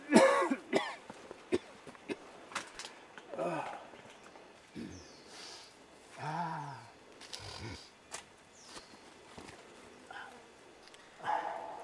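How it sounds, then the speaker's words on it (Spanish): A man coughs and clears his throat repeatedly in a dramatized scene, harsh bursts scattered among quieter pauses and faint movement, with no talk over them. "esa tos no es normal"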